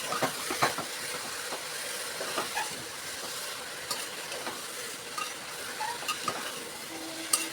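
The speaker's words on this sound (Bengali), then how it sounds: "এবার এটাকে আমি প্রেসার কুকারের মধ্যেই ভালো করে কষে নেব।" Spices frying in a pressure cooker make a continuous soft sizzle with scattered light scrapes and clicks of stirring, heard close and alone.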